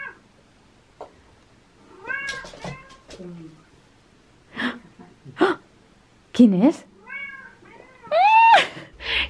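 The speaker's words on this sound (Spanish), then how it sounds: "Estoy editando y se oye maullar a la gata" A cat meowing indoors, several distinct close meows spread through the stretch with quiet pauses between them, one longer rising cry near the end, and a voice briefly asking a question.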